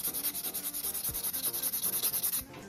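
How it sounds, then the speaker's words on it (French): A nail buffer is worked briskly over acrylic gel nails, a close, rhythmic scratchy rubbing with about twenty quick even strokes before it stops. "on va passer un coup de buffer pour enlever toutes les petites traces de la lime"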